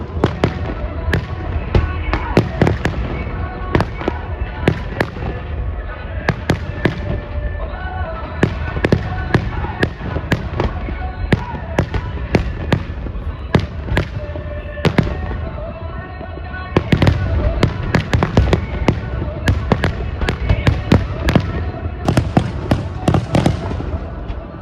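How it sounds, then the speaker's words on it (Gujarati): Fireworks bursting continuously with dense, rapid crackling bangs in an outdoor celebration, loud and near, with a steady rumble beneath the sharp pops. "મિત્રો પાછળ તમે ખાલી જો ફટાકડા જો બહુ મસ્ત છે"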